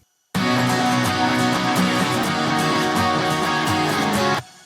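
A dense wall of layered electric guitars rings out with a lush, shimmering reverb wash, sustained for a few seconds then stopping.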